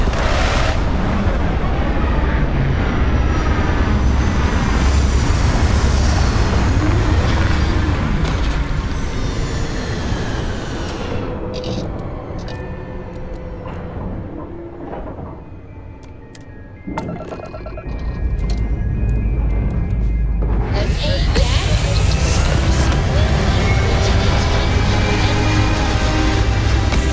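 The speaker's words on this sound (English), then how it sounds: "Retros firing. Orbit stabilized." Spaceship retro thrusters fire during a landing in the Starfield video game: a loud, sustained roar that thins midway into a quieter tonal electronic hum, then surges back to full, dense rumble.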